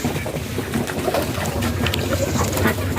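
High-flyer pigeons cooing and fluttering in a loft, a soft steady murmur of birds close by with a breezy, watery background hiss and no talking.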